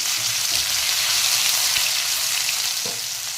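Cumin and ginger garlic paste sizzle vigorously in hot oil, a dense, continuous frying hiss close to the pan, with a few faint stirring knocks and no talking.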